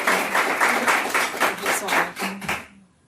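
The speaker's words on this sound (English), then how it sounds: "Okay, Raneem Omar, please give her a warm applause." Audience applause at a live event, a loud, close burst of many hands clapping that fades out near the end.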